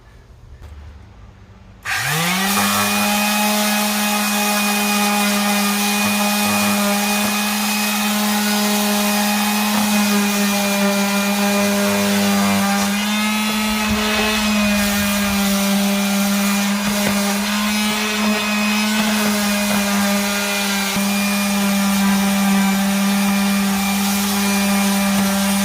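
After a brief quiet moment a power sander starts up and runs continuously on weathered house siding, stripping peeling paint back to bare wood; a loud, steady electric whine with a strong hum, close and uninterrupted for over twenty seconds.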